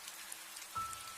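A heavy rain shower sound effect in a cartoon, a soft hiss that swells suddenly partway through into a denser patter of drops, fairly faint and brief.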